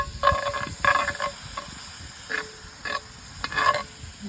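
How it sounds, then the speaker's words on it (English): Milk poured into biscuit gravy cooking over a campfire, giving a loud steady sizzle and hiss with intermittent stirring scrapes, no voices. "Now I'm gonna add a little bit of milk."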